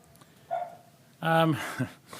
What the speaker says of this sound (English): Someone's got a dog in the background.